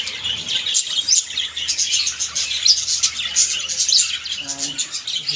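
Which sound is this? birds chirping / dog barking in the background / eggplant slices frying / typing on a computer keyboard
birds chirping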